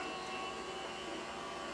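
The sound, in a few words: meat grinder grinding partially frozen meat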